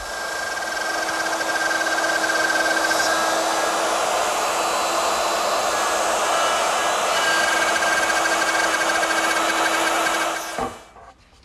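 A power router with a dovetailing bit and guide collar runs continuously as it cuts the pin sockets in wooden boards for a toy chest. The loud, steady high-pitched whine holds at an even pitch, then cuts off and spins down near the end.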